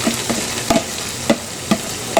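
Chow mein with bamboo shoots being stir-fried in a jumbo 14-inch T-fal wok, a steady broadband sizzle broken by several sharp scraping clanks of the spatula against the pan, close and fairly loud with no talk.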